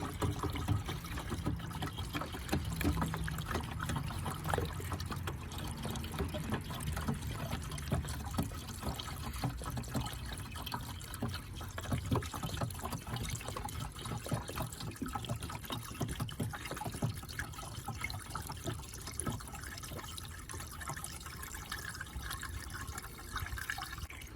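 Water pours and trickles steadily into a K1500 truck's radiator for a long stretch, a continuous gurgling splash without talk.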